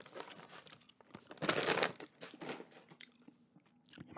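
Close, wet gum chewing for ASMR, with soft crunchy, crinkly mouth sounds coming in irregular bursts and one louder crackling stretch in the middle, no talking.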